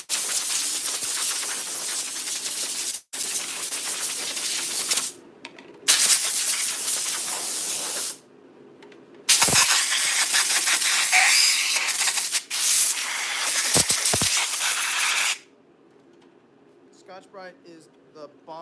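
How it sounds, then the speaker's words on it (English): Compressed air spraying Kydex dust off clothing in loud hissing bursts, several long blasts of a few seconds each separated by short pauses, followed by quiet room sound. "Now all I gotta do is spray myself off"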